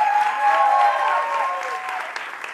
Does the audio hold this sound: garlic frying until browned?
no